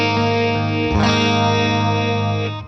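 Electric guitar played through the Blackstar St James plugin's phaser effect, a dense sustained distorted chord with a sweeping swirl, loud and continuous before fading out near the end, no voices.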